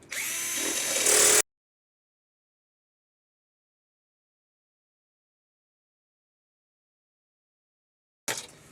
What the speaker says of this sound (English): We're going to take this drill and we're going to go right in here.